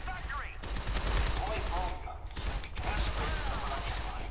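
Rapid bursts of gunfire from the side-scrolling action game Shadow Complex ring out nearly continuously, loud and dense with brief gaps between volleys, with someone talking over parts of the shooting.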